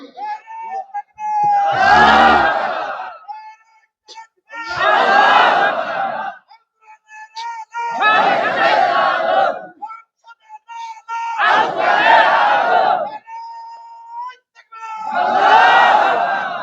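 A large crowd at a religious gathering shouting takbir in unison, five loud, drawn-out collective roars separated by brief pauses, with a single voice leading between them.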